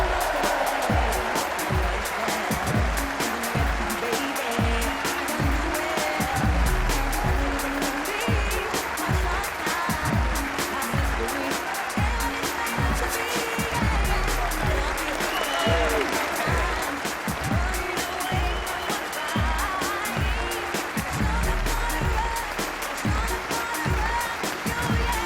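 Alexandra Palace crowd at the 2016 Masters snooker final roaring, cheering and applauding for Barry Hawkins, a dense, sustained wall of clapping and cheers that stays loud and steady throughout.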